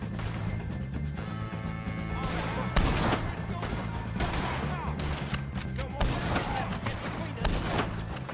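A chaotic gunfight against O'Driscolls in Red Dead Redemption 2, with dense, continuous shots, crashes and impacts layered over music and shouting voices throughout.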